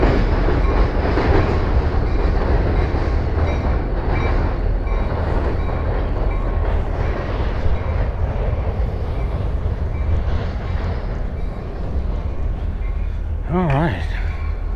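A short train crossing near a marina, close and loud, with continuous rolling rumble and rhythmic clickety-clack of wheels over rail joints, a brief voice near the end.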